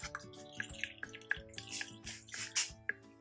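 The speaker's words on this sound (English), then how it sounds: "See it dripping through now." Herb-infused oil drips through a strainer while a basic lip or body salve is made, giving a run of small, close, irregular drip plinks over a steady low background hum.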